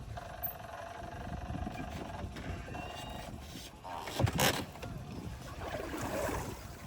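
A boat motor chugs on the water amid wind and lapping waves, with a louder knock and splash near the middle.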